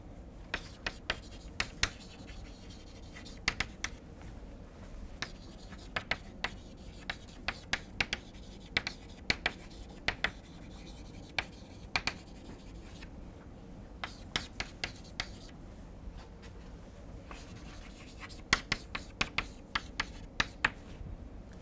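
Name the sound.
writing out a theorem statement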